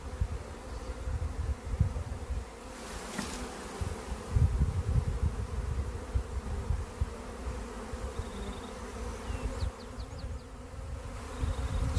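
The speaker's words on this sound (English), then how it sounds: "Now we're going to see a big cluster of bees flying." A big cluster of bees flies around a swarm box, producing a loud, close, continuous buzzing drone that swells and dips over several seconds, with a brief scraping knock partway through and no talking.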